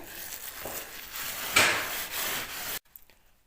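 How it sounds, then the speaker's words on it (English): A scraper drags paint stripper off a rough pine beam in several close, rasping strokes, one sharper scrape near the middle. The sound cuts off abruptly, leaving near silence with faint taps. "as soon as I've finished stripping the paint stripper, then I need to neutralise this"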